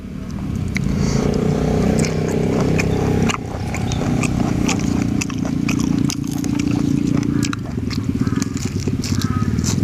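Someone eats spicy raw beef larb up close, with wet biting and chewing clicks repeating over a steady low droning background.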